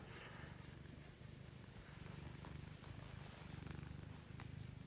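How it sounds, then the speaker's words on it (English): A cat purring close by, a soft, low rumble that pulses steadily in a continuous rhythm and stays faint throughout, with no other sounds over it. "She's purring."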